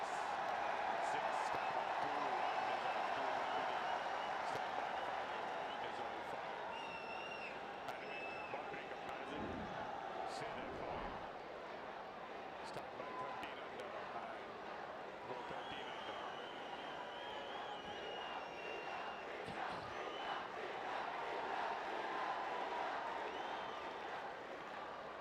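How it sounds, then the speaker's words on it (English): A cricket stadium crowd at a T20 cup match keeps up a steady, broad roar of cheering and applause throughout, with a commentator talking over it. "Crowds are excited."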